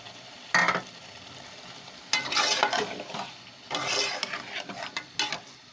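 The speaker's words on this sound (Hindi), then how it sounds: "बस ये देखें, मसाला भून रहा है" Masala frying in a pan with potatoes for chicken and potato curry, a low sizzle broken by several loud bursts of spatula scraping and stirring against the pan, close up with no talking.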